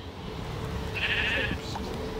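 A single sheep gives one short, wavering bleat close by over a low outdoor background rumble.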